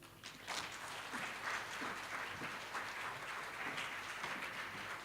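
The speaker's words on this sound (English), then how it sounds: "Please, another round of applause" Applause from an audience after a spoken-word poetry presentation at a student advocacy event, steady rapid clapping throughout, fairly faint and even, with no talk over it.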